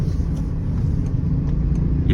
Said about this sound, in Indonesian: Yuk tambah gasnya, naikkan RPM.